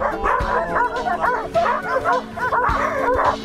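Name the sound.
sled dogs barking excitedly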